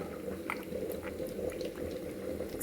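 Rava-coated bhutai fish frying in hot oil, a continuous dense bubbling sizzle with faint pops, steady and moderately close with no talking.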